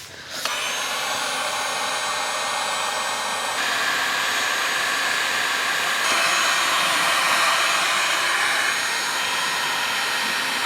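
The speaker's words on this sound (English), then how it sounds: "I'm trying to now blow it up the tap so that it goes back down the hose to wherever it's frozen and eventually defrosts it" Steady loud whoosh of hot air blown by a hair-dryer-like blower up a frozen tap to thaw a hose pipe in a tiny house during freezing weather, running continuously for about ten seconds with slight shifts in pitch.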